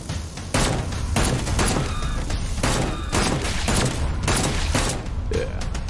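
Rapid gunfire bursts from a VR shooter game, Seeking Dawn, crackling in dense, repeated volleys with booming impacts that run almost without pause for several seconds.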